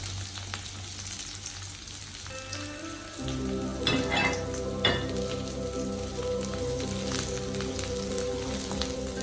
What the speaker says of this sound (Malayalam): വെളുത്തുള്ളി, ഇഞ്ചി, പച്ചമുളക് ഇട്ട് നന്നായി മൂപ്പിക്കുക